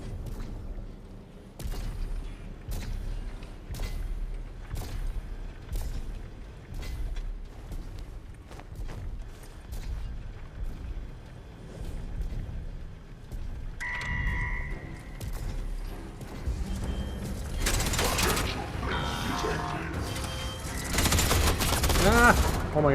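Turret fire in the video game Atomfall, with sustained rapid bursts of gunfire and booms that grow dense and loud toward the end, heard under occasional player talk.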